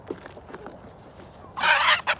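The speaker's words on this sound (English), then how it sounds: "Whoa. Hold up, Mr. Rooster" Rooster crowing loudly and close at a homestead during morning feeding, a long crow followed by a shorter burst, after a quieter stretch of soft clucking and scratching.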